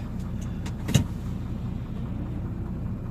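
A vehicle engine turns over and catches in a wintry setting, a brief louder burst near one second settling into a steady low idle rumble, close by with no talk.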